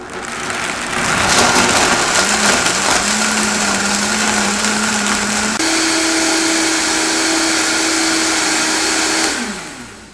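A blender purees almonds and water into almond milk. It runs loud on low speed, then jumps to a higher pitched roar on high, holds steady for a few seconds and spins down.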